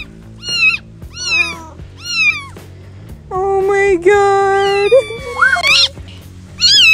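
A cat gives a series of loud, angry drawn-out meows and yowls, three short cries followed by a long wavering caterwaul, with a person exclaiming briefly.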